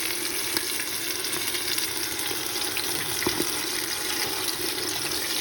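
A pot of fennel and pea tagine simmers with a steady, close bubbling hiss and faint occasional pops, continuous throughout with no voices.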